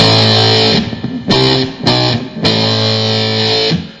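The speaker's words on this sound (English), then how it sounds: "It's using an effects processor which gives me the sound of severe overdrive or distortion." Electric guitar power chords, heavily distorted through an effects processor, ring out loud and sustained, with two brief gaps where the chord is cut and restruck before holding again.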